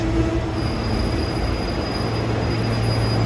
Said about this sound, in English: Here we got some Silverliner 5s on track 2, headed for Chestnut Hill East.